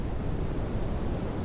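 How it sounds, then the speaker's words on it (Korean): Clear stream water rushes around rocks near Muryangsa temple, a dense, steady wash of flowing water with no pauses and no voices. "기암괴석을 휘도는 맑은 물소리"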